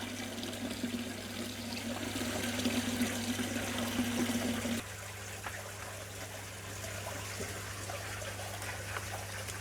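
Water poured from a fish bag into a bucket while handling gold gourami, a continuous trickling and splashing over a steady background hum, heavier in the first half and then quieter and thinner.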